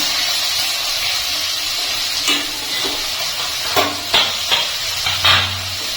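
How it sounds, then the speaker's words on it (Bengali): Chopped onion dropped into a little hot white oil in a wok (kadai), giving a steady loud hissing sizzle with a few scrapes of stirring near the end, close and without talk. "আমি কড়াইতে অল্প করে সাদা তেল গরম বসিয়েছি এখন আমি এর ভিতরে দিয়ে দিচ্ছি পেঁয়াজ কুচি"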